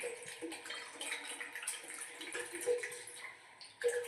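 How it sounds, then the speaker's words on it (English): Soya chunks being rinsed by hand under cold clean running water, a steady close splashing and trickling with small sloshes and drips throughout. "Next step is we're going to wash."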